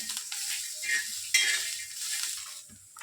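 Peanuts roasting in a dry pan while being stirred, soft rattling and scraping with a faint sizzle and a single sharper clink, close and fairly quiet.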